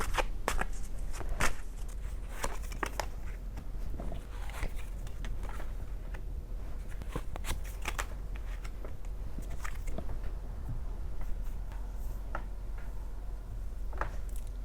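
Tarot cards are shuffled and drawn by hand in a quiet room, a run of soft papery flicks and snaps of varying speed across a steady hush.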